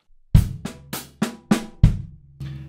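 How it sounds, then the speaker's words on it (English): Drum kit groove with a bass drum added on beat one, six or seven crisp hits in an even rhythm, the low kick thump under the first stroke, close and dry with no talking. "So we're going to add the bass drum on the one."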